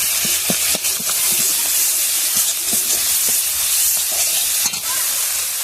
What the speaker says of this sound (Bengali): কাজু আর চাল মগজ বাটা দিয়ে দিলাম দিয়ে ভালো করে মশলাটা কষে নেব